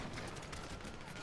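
Gunfire in the Grand Theft Auto V video game, a dense, continuous burst of rapid shots lasting just over a second with no pauses and no talking.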